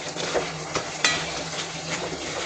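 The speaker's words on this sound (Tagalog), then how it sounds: "At ihalo-halo natin at nang magkalasa naman." Spicy chicken with chili and pepper stirred in a pan, giving soft scraping and a few light utensil clinks against the metal, with a faint sizzle underneath; short and fairly quiet with no talking.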